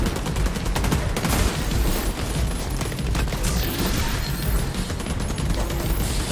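Enemy SMG fire in The Division 2 rattles in dense, overlapping rapid bursts with sharp cracks and crashing impacts, loud and sustained without a break.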